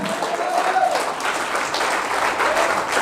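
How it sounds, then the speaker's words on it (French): A church congregation breaks into sustained applause, a dense, even wash of many hands clapping at close range with no break. "Acclame pour toi-même."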